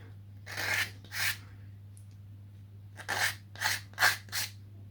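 A small balsa block for a model is cut off the end of a strip, with short rasping strokes in two pairs and then a rapid group of four, close and fairly quiet over a low hum.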